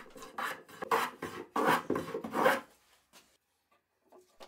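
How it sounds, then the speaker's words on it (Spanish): Several rhythmic rasping strokes of a carpenter's hand plane rounding the edges of a wooden piece, each a short scraping swish, close by, then quiet with faint handling noises. "con un cepillo de carpintero le redondeo las aristas"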